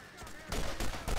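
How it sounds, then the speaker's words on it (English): Gunfire in the Borderlands first-person shooter game, a loud dense burst of rapid shots at close range with bright crackling bursts. "I might just run over and shoot him up close"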